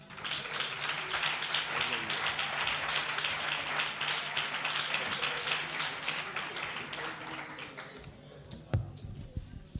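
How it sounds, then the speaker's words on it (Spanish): A church congregation claps together in sustained, dense applause for about eight seconds, close and fairly loud, before it thins out and a single sharp knock rings near the end. "¿Pueden darle otro aplauso al Señor?"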